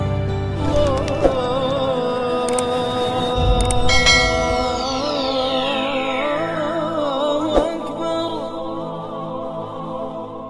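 Bright bell-like chimes ring out over sustained tonal music, with a sweeping glissando effect and a couple of sharp accents.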